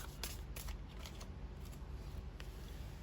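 Tarot cards are shuffled and drawn by hand, giving close, crisp riffling and flicking sounds with a few sharper snaps over a low steady background.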